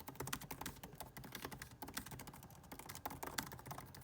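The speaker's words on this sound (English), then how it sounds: "I feel like typing with it is just very straightforward, very comfortable, very classic." Typing on the scissor-switch Magic Keyboard of a 2019 16-inch MacBook Pro, a quick, soft, irregular patter of key presses with light clicks, close and quiet, continuing for several seconds with no talking.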